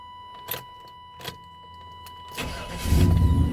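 A 1988-1998 Chevy Silverado 1500 pickup, fresh from a fuel pump replacement, gives a few short clicks and whirs while priming, then its engine cranks and fires into a loud, steady idle.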